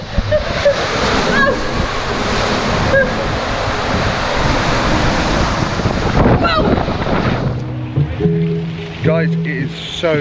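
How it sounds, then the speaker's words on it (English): Strong wind buffets the microphone at an outdoor water park, a loud continuous roar with splashing water underneath, easing toward the end as a voice speaks. "it is so windy today"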